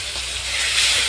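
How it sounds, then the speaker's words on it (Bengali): Marinated chicken tikka pieces hit hot oil and give a brief, loud, broad hiss that swells slightly over a second. "এখন তেলে ছেড়ে দেব তেল গরম হয়ে গেছে তেলে দিয়ে দেওয়া হয়েছে"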